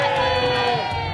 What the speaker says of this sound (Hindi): नाथों के नाथ भूतनाथ भोलेनाथ के जयकारे